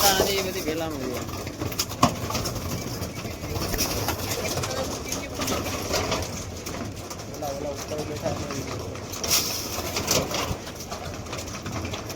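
Pigeons coo in soft, repeated rolling calls that run through the whole stretch, set against a busy background with voices and scattered clatter.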